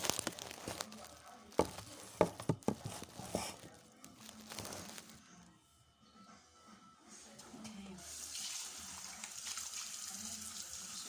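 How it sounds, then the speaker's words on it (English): Lukewarm water runs from a faucet over tripe in a sink, with a few sharp clatters and handling knocks early on, then a steady hissing stream, close by. "We are washing it just with lukewarm water, so that it will look good."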